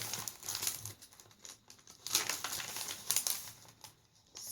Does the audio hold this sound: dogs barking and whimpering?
no